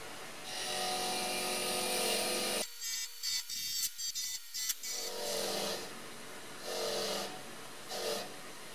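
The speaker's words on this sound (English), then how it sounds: "I then went back to the bench grinder to remove the rest of the rust and polish them up" A bench grinder works rust off BMW E30 gas tank brackets, a hissing whine that cuts out abruptly, stutters through several short bursts of contact, then returns in swelling passes.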